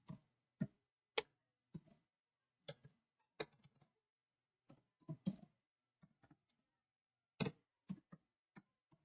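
Sparse, irregular key clicks from a computer keyboard during an office data-processing lesson, sounding as scattered single taps and short bursts with quiet gaps, close and fairly faint, with no talking.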